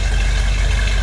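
A 1972 Plymouth Cuda with a 340 V8 and automatic transmission idles nearby, a loud, steady low rumble with no speech over it.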